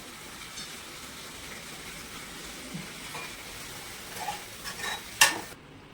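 Kerala-style prawn roast frying in a pan as fresh curry leaves go in, a soft continuous sizzle with stirring, then a sharp crackling burst near the end as the leaves hit the hot oil.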